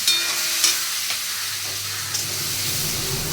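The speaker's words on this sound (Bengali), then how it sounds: "দেখো আলুটা ভাজা হয়ে গেছে ভালো মতন আমার" Potatoes with a little ginger fry in hot oil in a pan for a tilapia curry, giving a continuous close sizzle broken by a few scraping stirs.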